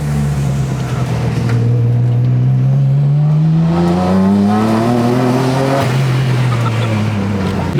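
A C4 Corvette fitted with a twin-turbo RB25 engine drives on the street, its loud, close engine note climbing steadily through a long rev, briefly dropping on a shift, then pulling up again.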